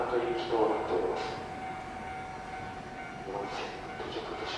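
A train arriving at a Nagano station platform in the early morning, a faint, steady rumble with a high tonal whine and brief brushing bursts, distant and quiet under ambient station noise.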